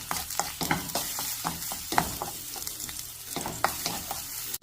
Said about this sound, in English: All together, stir frying.